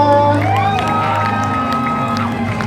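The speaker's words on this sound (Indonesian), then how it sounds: "Tepuk tangan untuk Nadia Arina" A crowd cheers and whoops as the cast of the film Hati Suhita is introduced, with sustained tonal shouts over a dense hubbub and only faint scattered clapping.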